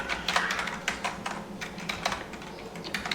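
Fingers type code on a computer keyboard in quick, uneven bursts of close, crisp key clicks, with short pauses between flurries and no talking.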